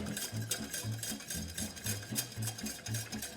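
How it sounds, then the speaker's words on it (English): A sauce being stirred together in a pot, heard as a steady series of about seven soft, rhythmic strokes, roughly two per second, faint and close with no talking. "Stir that together."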